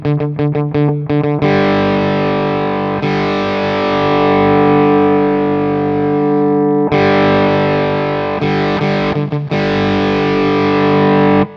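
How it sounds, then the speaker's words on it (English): Asymmetrical clipping overdrive running as software DSP on an STM32 board, processing a loud, sustained distorted guitar with strummed chords and brief staccato stabs, its tone shifting between a fuller and a thinner, tinnier character. "So you can really hear it changes the characteristics of the distortion quite a bit from this rather full sound to this bit more tinny sound."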